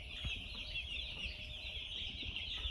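Young chicks on a poultry farm cheeping in a steady, faint high-pitched chorus, with a few soft low knocks underneath.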